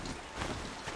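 Hoofbeats of a robotic strider mount in the video game Horizon Zero Dawn, a brief run of steady clip-clop steps close by, with no talk over them.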